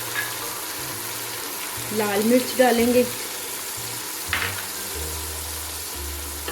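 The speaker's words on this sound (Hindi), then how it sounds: "अदरक लहसुन हमारा फ्राई हो चुका है" Ginger and garlic frying in a pan for a chana dal curry, a steady close sizzle with brief stirring scrapes while someone speaks over it.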